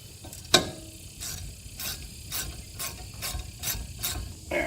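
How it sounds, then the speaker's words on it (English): A ratchet clicks in short bursts while tightening the Allen bolts on the brake caliper of a 2016 Honda Civic, close and fairly loud, with a sharp metal knock near the start. "Then we can get our Allen bolts, the two Allen bolts back here. And let's see if we can't get those on."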